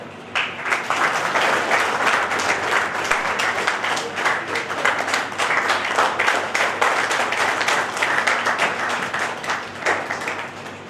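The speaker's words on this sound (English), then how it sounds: "Now you can clap" A conference hall audience claps steadily and loudly for the full stretch, a thick continuous wash of many hands with a few sharper individual claps standing out, and no voices heard.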